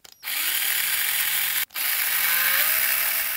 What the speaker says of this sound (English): I'm going with a 2 millimeter drill here